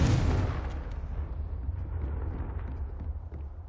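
Confringo fire spell explosion in the Hogwarts Legacy video game: a loud, sudden boom right at the start that decays into a rumbling tail with scattered crackles over several seconds.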